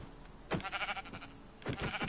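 A few short sheep bleats in a video game, with a quieter wavering cry between them, faint and close together.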